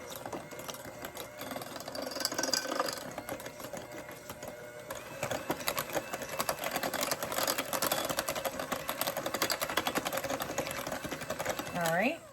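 An electric mixer whirs quietly as it beats banana bread batter in a home kitchen, the motor hum turning busier and louder partway through with clattering against the bowl.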